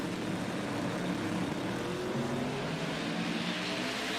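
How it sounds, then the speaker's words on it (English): Twin-turbo big block drag racing car making a run, heard as a steady, distant, broadband engine roar that holds fairly constant and moderately faint throughout. "The driver is Mark Mickey in his twin-turbo big block powered vehicle."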